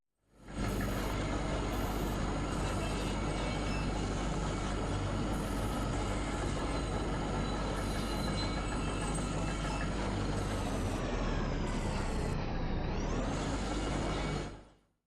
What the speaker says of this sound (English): all have great atmospheric sound to add to their locations